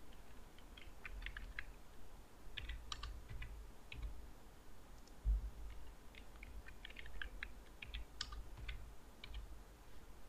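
Keys tapped on a computer keyboard while entering a password, short scattered clusters of light clicks, faint and close over a quiet low hum.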